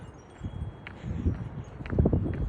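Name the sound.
strong wind during a high wind storm in Ohio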